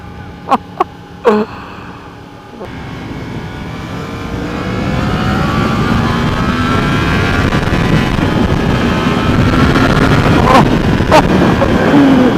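A 2017 Yamaha MT-10 motorcycle with a full exhaust roars loud and close, climbing in pitch through sustained hard acceleration with wind buffeting, after a few sharp pops and blips at the start.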